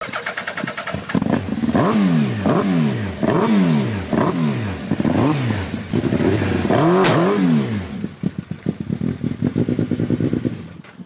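A Renault Mégane engine is blipped in a series of rising and falling revs, then settles into a rough, clattering idle. The sound is loud and close, with no one talking.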